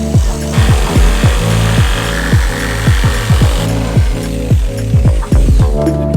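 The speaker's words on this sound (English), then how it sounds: "right now I'm going to drill a pilot hole into our frame" A power drill grinds loudly and steadily into a van's frame, drilling a pilot hole, its pitch dipping in rapid repeated pulses as it bites, close by with no talking.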